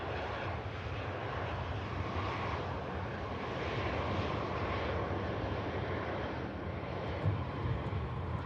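A KLM Boeing 737-700 at Manchester Airport, its engines producing a steady broadband roar that holds evenly throughout, moderately distant and without speech.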